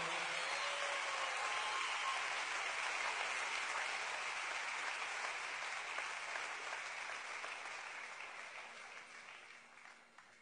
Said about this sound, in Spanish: Un aplauso para Lili,